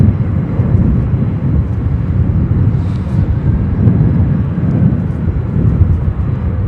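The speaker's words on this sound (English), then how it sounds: "that is a 747-8" A Boeing 747-8 airliner at Chicago O'Hare produces a loud, steady, broad jet roar that holds continuously throughout, with a deep rumbling low end.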